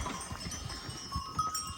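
Hungry sheep bleat faintly in a farm setting, overlapping calls blending into a steady rustling background with no talking.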